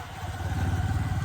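Motorcycle loaded with four riders, two of them girls, on a hot village road, its engine running at a steady low chug with a throbbing, slightly clattering rhythm, close and continuous throughout.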